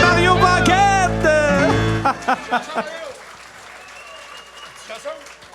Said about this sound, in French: d'applaudir très fort Denis Côté, accompagné de Mario Paquette.